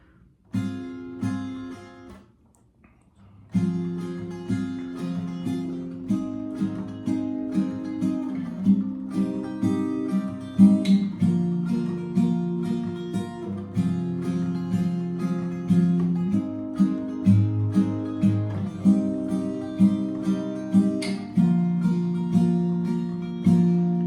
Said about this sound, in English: That's just down, up, down, up, down on every chord.